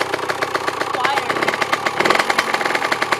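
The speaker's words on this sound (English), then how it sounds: "Go ahead and give her some kicks, see if we can get her started up." A 2001 Kawasaki KX 85 dirt bike engine fitted with new exhaust gaskets runs at a steady idle, its rapid even firing pulses loud and close, with voices talking over it.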